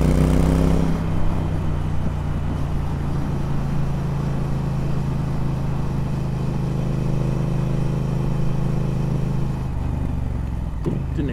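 Triumph Speed Twin motorcycle on stock exhaust pipes cruising down a road, a steady droning engine note with a low rumble held evenly throughout, with wind noise and no talking.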